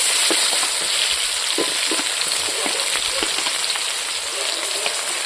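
Sliced onions fry in hot oil after crushed black pepper, a loud, steady crackling sizzle with dense spitting pops that continues without pause and without speech.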